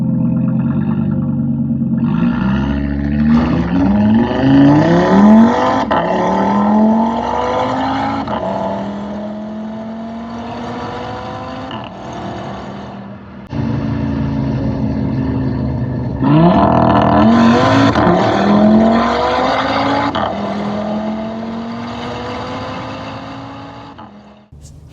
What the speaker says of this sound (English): you'll hear this is what I mean about the upshifts and downshifts on the RS3s pre-facelifts. Such a wonderful noise.